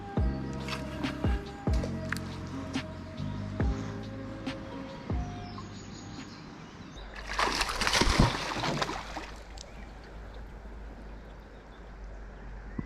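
A pike strikes and splashes in a river running close to flood. One loud burst of splashing water stands out against the steady rush of the stream, with birds chirping and scattered clicks and knocks before it.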